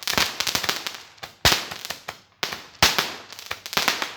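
Firecrackers and fireworks bursting in rapid crackling strings, with several louder sharp bangs standing out among the dense popping, close and loud.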